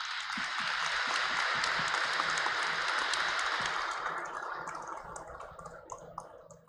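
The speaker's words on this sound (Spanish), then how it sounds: "A todos los que participan les enviamos un fuerte aplauso" A sustained round of applause on a Sunday Mass radio broadcast from Xalapa, dense and steady for several seconds, then thinning out into a few scattered claps as it fades.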